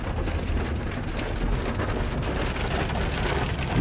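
Rain falls steadily and densely at a high, cloudy mountain spot on the way to Campo Alto Campground, California, a constant close wash of noise with no talking.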